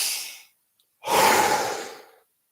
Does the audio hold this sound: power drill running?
no